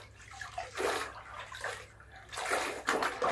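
A duvet and dirty clothes are washed by hand in water in a village yard, with close, repeated bursts of splashing and sloshing that rise and fall as the fabric is worked.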